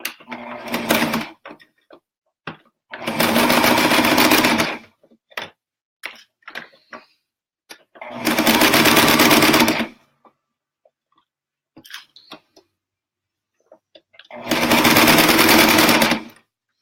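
Sewing machine back stitching a slouchy toy sack in three short loud bursts of rapid whirring, separated by quiet gaps with small clicks and handling of the fabric.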